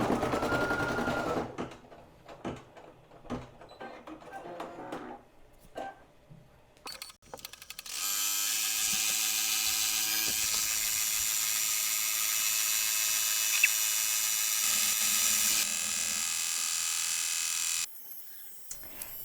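An embroidery machine stitches a patch onto plastic sheeting, a steady high whirring hum running for about ten seconds after a few clicks and handling noises, then stopping.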